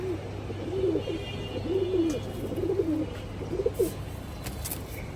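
Afsan Makhra Bagha khaki pigeons coo in a rhythmic series of soft, rolling calls close by, repeating about five times over a low steady hum, with no talking.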